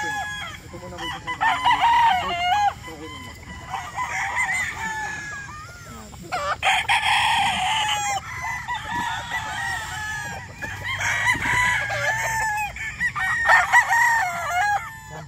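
White-legged dome brood stag roosters and other chickens crowing repeatedly at close range, long cock-a-doodle calls overlapping with clucks across the yard, with faint background noise between calls.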